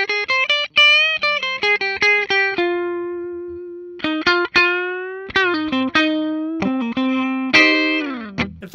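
A 1975 Gibson L6 Midnight Special electric guitar plays in the middle pickup position, which is wired out of phase, giving a thin, hollow tone. Plucked notes and short phrases ring out with sustained held notes, with no talking.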